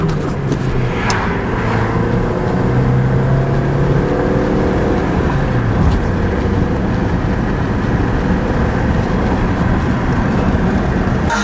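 A stock Volkswagen Jetta on the move, its engine and road noise filling the cabin steadily and loudly, with tonal engine hum shifting as it gets up to speed and no voices.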